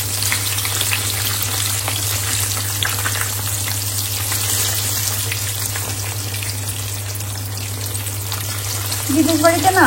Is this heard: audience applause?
no